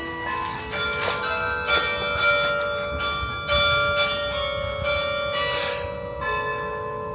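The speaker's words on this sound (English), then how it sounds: "We're rewarded with bells just as we arrive." Church bells of the basilica above Annecy, France ring out in a steady series of strikes, their overlapping tones lingering and ringing clearly over a soft outdoor background, with no talking.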